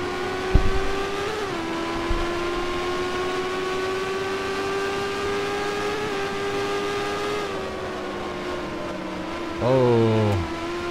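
A racing video game's Indy car engine drones steadily at high pitch under light game audio, with a brief whine shift near the end as the car runs off the track onto grass.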